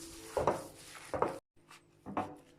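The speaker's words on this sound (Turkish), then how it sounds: "Yoğuruyoruz" Hands knead a meatball mixture of semolina, ground dried bread, egg, salt and chili flakes, making faint, close, squishy rubbing strokes in a few short bursts separated by brief pauses, with no talking.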